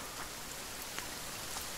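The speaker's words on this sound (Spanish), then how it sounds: "lloviendo encima" Rain falls in the survival video game The Forest, a faint, steady hiss of drops on surfaces with no other sounds or speech.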